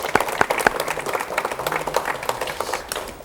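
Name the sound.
studio audience applause welcoming a guest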